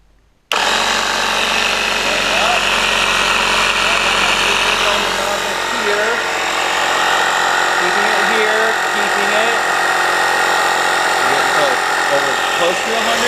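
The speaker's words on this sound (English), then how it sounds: "I'm going to turn the compressor on." An air compressor runs steadily while inflating a tire, giving a loud continuous mechanical drone that starts abruptly and carries on unbroken, with a voice talking over it.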